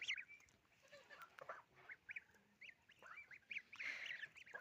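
Goslings and ducklings peep and chirp in short high calls, a busy scattered chorus close by with a few louder squeaky bursts.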